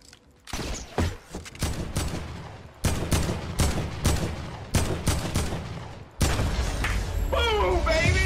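Rocket launcher blasts and gunfire in Fortnite, a rapid series of sharp loud booms and shots in bursts, ending in a sustained rumbling explosion, with faint voices underneath.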